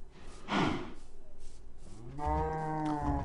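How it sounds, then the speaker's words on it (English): Cow mooing in Minecraft: a breathy snort, then a close, loud, low drawn-out moo near the end, with faint background game ambience. "Hello, cows."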